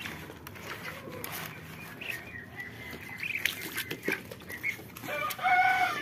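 Mulard ducks at their feed give off soft, scattered clucking and quacking calls. The calls grow busier and louder toward the end, with no talking.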